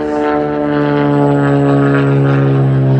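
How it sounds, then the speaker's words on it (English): A small propeller plane passes overhead, a loud, steady buzzing drone with strong harmonic tones that swells slightly as it nears, heard alone. "that's a loud little plane"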